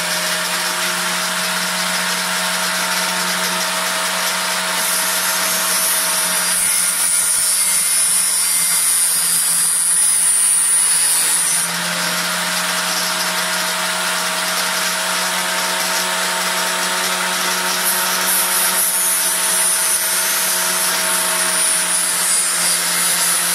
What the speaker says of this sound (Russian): Вот такую вот фанерку. Сейчас мы распилим.